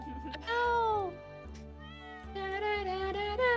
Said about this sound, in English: Oh, I got a cat!